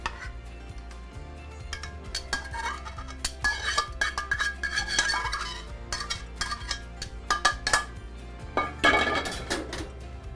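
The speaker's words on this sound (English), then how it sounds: "And then you can just spoon your fish right over." Monkfish spooned over a plate of pasta, heard as clinks and scrapes of a spoon against the dish, irregular and close, with no talking.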